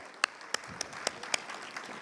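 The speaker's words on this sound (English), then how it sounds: "let the claps also be louder" A room audience at a startup talk applauds to welcome the next speaker: sparse, separate hand claps spaced irregularly, close and crisp over a quiet room.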